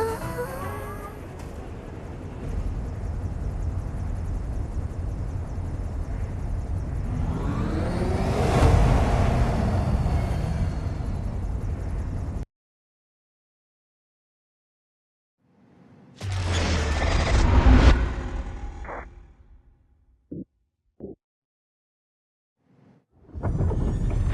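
Airship ride in a video game, a loud rushing engine drone that swells into a whooshing surge, cuts to silence, then returns in a short burst with brief clicks and another rumble at the end.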